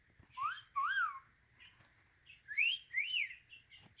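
A pet bird named Cheech whistles several clear, rising-and-falling notes in two short bursts separated by a pause, close and fairly soft, with no talking.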